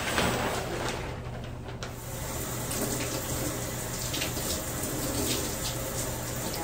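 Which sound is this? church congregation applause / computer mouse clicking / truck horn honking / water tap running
water tap running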